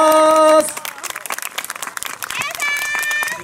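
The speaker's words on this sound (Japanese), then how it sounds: "はい、大きな拍手ありがとうございました。" Audience applause at an outdoor award ceremony for the 2019 MFJ All-Japan Trial Championship round in Tohoku, a steady wash of clapping that follows a short stretch of music and continues under an announcer's voice.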